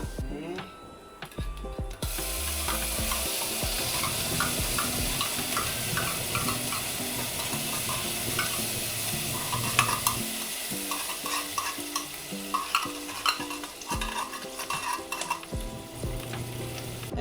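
Rice being stirred and fried in a pan, a steady loud sizzle under continuous scraping and clattering of a utensil against the pan, close and unbroken.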